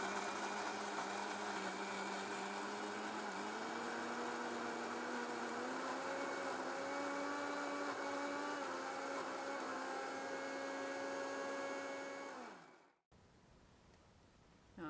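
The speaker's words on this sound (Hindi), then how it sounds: "चलाएंगे मिक्सर।" An electric mixer grinder whirs loudly and steadily while grinding coconut chutney with tamarind water, its motor pitch drifting slightly before it spins down and cuts off, leaving quiet room tone.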